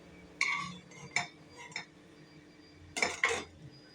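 Fried raisins are placed onto a plate with a few clinking clatters of a spoon against the dish, arriving in short clusters with quiet gaps between them.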